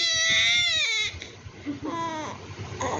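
A baby wails in a high, drawn-out cry at night, followed by shorter whimpering cries, close by, with an adult voice speaking between them.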